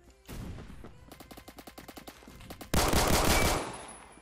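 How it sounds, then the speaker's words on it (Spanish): Shotgun fire in a Roblox game: a loud opening blast, then a rapid series of evenly spaced shots, and finally a heavy, sustained burst of fire that fades out. "Es una escopeta."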